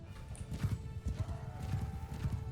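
Horses in the Mount & Blade II: Bannerlord game gallop in a steady rhythmic clip-clop of hooves, with a whinny among them, close and full over a busy battlefield background.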